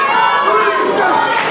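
Wrestling crowd at a tag-team match roaring steadily in support of the Lost Boys, a dense wall of cheers and shouts from a packed arena, continuous and loud with no clear single voice.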